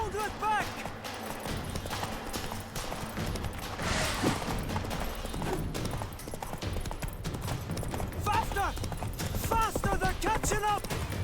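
Steady clip-clop of horse hooves in The Witcher 3: Wild Hunt, with busy game ambience and background music, occasional voices mixed in.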